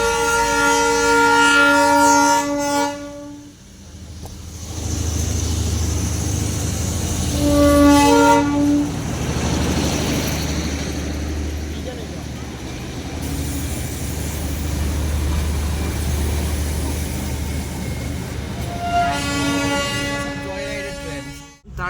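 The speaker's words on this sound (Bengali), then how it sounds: "আর আমরা এবার শুনতে পাচ্ছি স্টিম ইঞ্জিনের টয় ট্রেনের আওয়াজ। এই তো খুব কাছে চলে এসছে।" A Darjeeling steam toy train draws near, sounding long, loud horn blasts at the start, middle and end over a steady rumbling chug of the engine and carriages.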